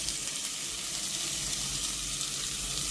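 Carrots with garlic and Scotch bonnet peppers sizzle in a hot pan, a steady loud hiss of frying that fills the whole moment without pause or voices.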